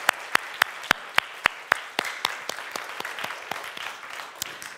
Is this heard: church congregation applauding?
yes